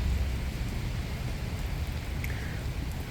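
Heavy rain falling steadily outdoors during a walk home, a dense, continuous wash of drops with a low rumbling undertone, loud and close with no pauses or voices.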